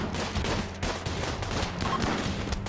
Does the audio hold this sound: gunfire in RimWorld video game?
yes